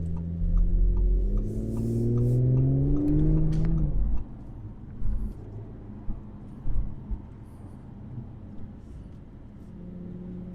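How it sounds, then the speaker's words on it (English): An Audi car accelerates from inside the cabin, the engine note rising through a few smooth sweeping pitch climbs for about four seconds, then settling into a quieter road rumble with occasional soft thumps. "I'll give it a little punch. and get a little acceleration flavor."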